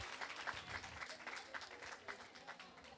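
Wedding guests applauding together, a steady, fairly faint wash of many hands clapping that carries on evenly for a few seconds.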